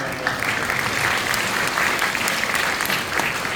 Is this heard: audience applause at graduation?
yes